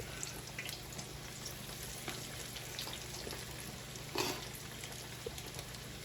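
Small coated fish fillets frying in a deep cast iron pan, a faint steady crackling hiss of hot oil with no talk.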